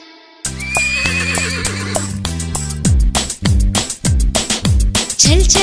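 In an animated children's song, a horse neighs over a bouncy musical backing, followed by repeated loud whinnying calls and clip-clop hoofbeats in a lively, regular rhythm.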